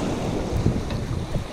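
Steady wind blowing at a seaside fishing spot in Western Australia during squid fishing, a continuous low rumbling buffet against the microphone with gusts, no one talking.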